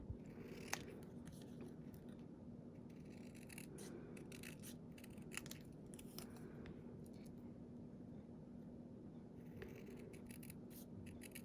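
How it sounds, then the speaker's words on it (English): Scissors cut out a small paper thank-you sentiment for a handmade card, a run of quiet, close snips and paper rustles against a faint, steady background hum. "I'm actually going to cut this little thank you out"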